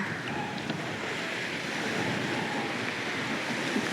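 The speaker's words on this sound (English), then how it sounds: "We are cutting through some waves here." A sailboat cuts through waves on open sea on the way to Stornoway, a dense, steady rush of water and wind noise with no clear separate splashes.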